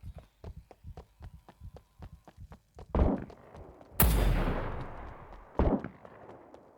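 Several loud, sharp gunshot blasts with a long echoing tail in the video game SCUM, preceded by a quick run of light rhythmic thuds like footsteps or hoofbeats.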